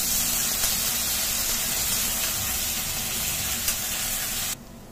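Spice paste of ginger, green chili and cumin fries in oil with a steady, dense sizzle close up that holds evenly and then cuts off abruptly near the end.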